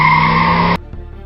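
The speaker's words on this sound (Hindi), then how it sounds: "उसने जोर से अपनी बाइक के ब्रेक लगाए।" A loud, sustained tire screech from a motorbike braking hard that cuts off abruptly, leaving a quiet, low hum afterward.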